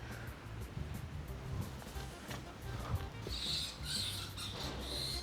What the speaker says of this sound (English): That sounds like a rat to me.